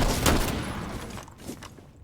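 Burst of gunfire in the video game Rainbow Six Siege, a loud opening shot followed by a few rapid reports that fade within two seconds.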